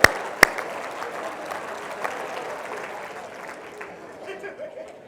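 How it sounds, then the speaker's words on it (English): An audience at a leadership retreat session breaks into applause. It opens with a couple of sharp claps, then a smaller patter of clapping that fades over a few seconds, with murmured chatter and some talk underneath. "Again, give yourself a round of applause."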